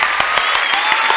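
Applause from an audience at a Korean business forum in Gangwon: dense, loud clapping with a few sharper claps standing out at a regular beat.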